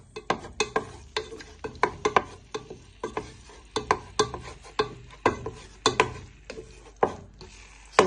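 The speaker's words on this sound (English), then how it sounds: "Just keep stirring them gently" Pork pieces stirred and broken apart in a frying pan for a sweet and sour stir fry, giving a steady run of close scraping, clicking utensil strokes over a faint sizzle, with no talk.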